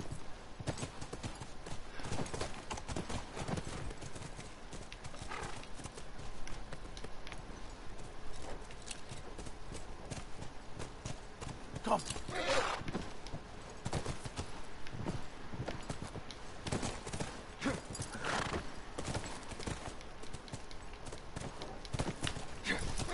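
Galloping horse hooves in The Last of Us, a steady clip-clop rhythm running throughout at moderate level, with an occasional whinny and brief speech over the game sounds.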